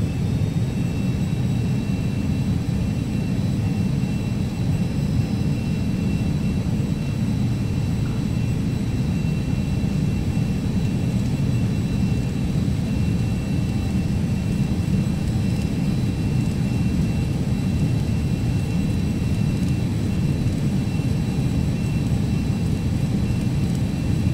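Carenado Citation CJ2 business jet on its takeoff roll in the Prepar3D flight simulator during a snowstorm, a steady loud engine roar with rumbling low end holding constant throughout, no voices.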